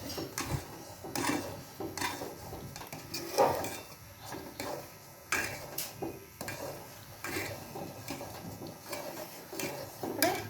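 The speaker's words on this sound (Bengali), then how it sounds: "এবার নাড়া দিতে হবে আবার।" Nolen gur payesh, a rice pudding sweetened with date-palm jaggery, is stirred in a pot: soft, quiet, rhythmic scraping and light clinks of a spoon against metal, continuing alone and faint throughout.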